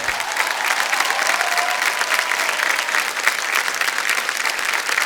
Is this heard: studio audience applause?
yes